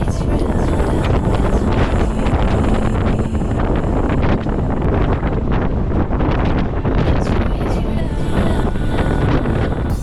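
Strong wind buffets the microphone at Milford Sound among the waterfalls, a loud constant roar and rumble with rain, steady throughout, with a voice faintly underneath.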